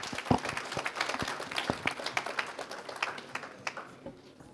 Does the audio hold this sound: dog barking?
no